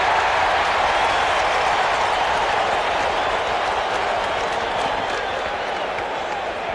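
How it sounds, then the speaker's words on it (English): A festive baseball crowd at Shea Stadium roars and claps during a 1986 World Series game between the Red Sox and the Mets, a loud continuous wall of cheering that fades slightly toward the end. "It is a festive, highly enthusiastic crowd as Wade Boggs awaits the first pitch."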